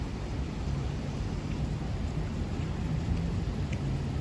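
Heavy rain storm at Columbus Circle, 59th Street, Manhattan, New York City, a steady dense hiss of rainfall with low rumbling wind noise, constant and fairly loud throughout.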